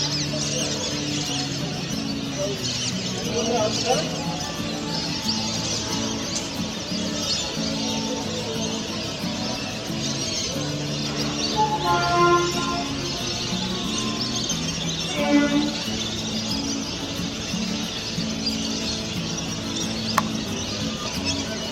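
Assorted birds calling and chirping at Santragachi lake wetland in India, home to bronze-winged jacanas, a steady chorus of varied calls over a constant wash of outdoor ambience, with a few louder calls standing out near the middle.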